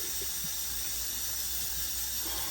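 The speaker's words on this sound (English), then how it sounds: "I'm filling my sink up here with some water." A kitchen tap runs steadily into a sink as it fills with water for washing greens, giving a constant, even hiss-and-splash with no talking.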